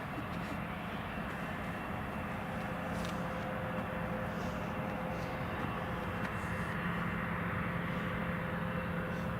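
A British Airways airliner on approach to Newcastle Airport, hidden in mist and cloud, gives off a faint, continuous distant engine roar that stays even from start to finish with no voices.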